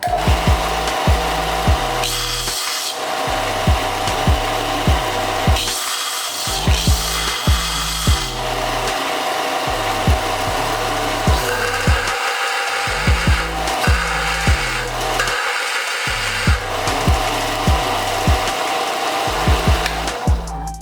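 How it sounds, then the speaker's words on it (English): An engine cylinder head is ground for cam clearance with a power tool, giving a loud, continuous abrasive grinding in repeated strokes of a few seconds each, with brief pauses between passes. "So I'm gonna grind it just a little more and then we'll toss it in the head"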